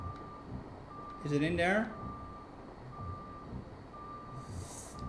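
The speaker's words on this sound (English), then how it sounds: "so I got stop and go braking on, so I have to stop braking every time I want to go into reverse" Periodic reversing beeps from a truck backing a trailer in a truck-driving simulator game, a steady evenly spaced tone repeating several times over low engine rumble, with a brief spoken question partway through.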